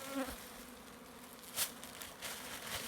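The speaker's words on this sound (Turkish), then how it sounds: "Parmağımın ucuna arı kondu." Honeybees buzz softly and continuously, with a few louder close passes and faint taps among the drone.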